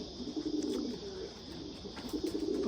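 Pigeons cooing softly around a racing pigeon loft, a steady low murmur of overlapping coos with faint chirps at moderate distance, no talk.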